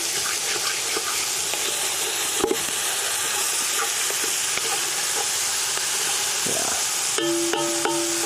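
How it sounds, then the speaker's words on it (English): Steady, close sizzle and hiss of three onions' worth of diced onion frying in a pan over a campfire outdoors, with sharp metal scrapes across the pan bottom and a few ringing clanks near the end. "I'm scraping the bottom of the pan right now, getting up all that stuff,"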